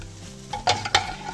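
Vegetables sizzle in a frying pan as stuffed mushrooms are cooked, a steady hiss punctuated by a couple of sharp scraping stirs.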